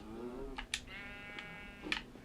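Minecraft sheep bleating, a couple of short wavering bleats near the start and middle amid faint clicks and game noises, quiet overall.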